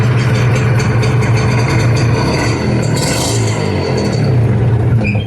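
A 1996 Honda NSR R150 RC Valve two-stroke motorcycle idles on its original exhaust, a steady, loud, close low engine burble that holds even throughout.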